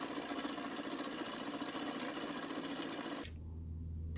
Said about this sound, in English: And of course, tap that in, and I'll mill that end flat.